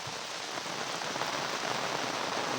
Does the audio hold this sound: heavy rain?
yes